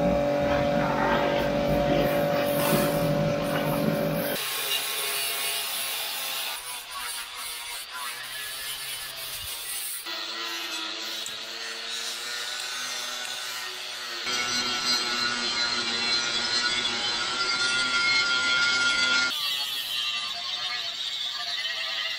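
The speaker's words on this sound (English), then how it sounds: "I found these discs were the best thing to get rid of the heavy rust, sort of cutting into it like this" Angle grinder with a cutting-style disc stripping heavy rust from trailer axles and leaf springs, loud harsh whirring and scraping in several bursts that change tone as the disc bites and lifts off the steel.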